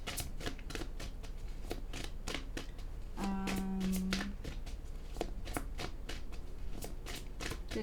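Oracle cards shuffled and handled close up, a quick run of crisp riffling flicks in a steady rhythm with one brief longer slide partway through, no talking.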